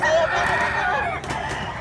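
A rooster crows loudly and close, one sustained crow filling the moment, with faint outdoor background at a farm in Mantalungon, Cebu.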